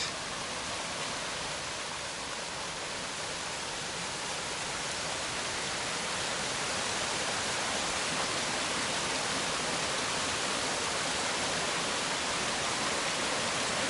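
The Talus Lake outlet stream on the Pacific Crest Trail rushes in a steady, dense wash, like water pouring over rocks close by, with no pauses and no voices.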